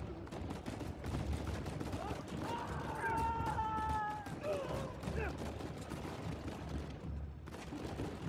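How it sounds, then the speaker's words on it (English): Enemy gunfire from above during Uncharted 4 gameplay, rapid bursts and scattered shots crackling over a busy action soundtrack while someone talks. "somebody shooting me from up there"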